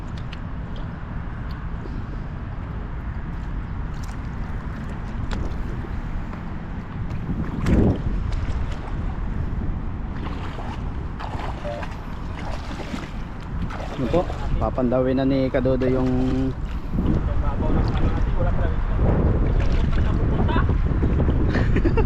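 Strong wind roars steadily against the microphone at the seaside, with the waves carried along, while people talk beneath the buffeting throughout.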